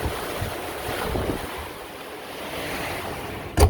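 Strong wind on a rainy day, a loud, steady roar of gusts buffeting the microphone, with a sharp thump at the very end and no talking.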